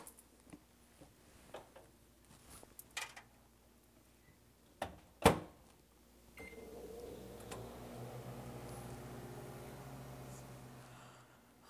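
A few clicks and a beep give way to a steady low hum of a microwave oven running, quiet and continuous.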